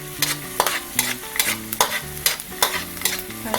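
Garlic frying in a pan while being stirred, a utensil scraping and clacking rhythmically against the pan over a constant sizzle, close and clear.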